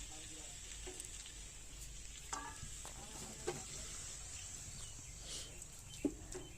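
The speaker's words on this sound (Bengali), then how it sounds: "এক মিনিট খুব ভালোভাবে নাড়াচাড়া করে নেব" Kuche fish and potatoes stirred in a pan in a rural-style kitchen, with a steady low sizzle and frying hiss broken by occasional scraping and clinking strokes of the spoon, fairly close, no talking.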